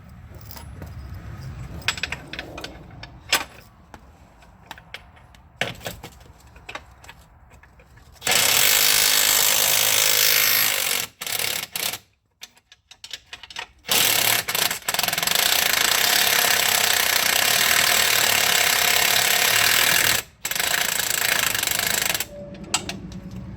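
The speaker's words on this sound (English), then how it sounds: "with our 21mm socket and 21mm wrench, and we remove the remaining bolt" A 21mm socket and wrench work a remaining bolt loose on a Dodge Grand Caravan power rack and pinion, with sharp metallic clanks and rattles early on, then long stretches of loud, harsh grinding broken by short pauses.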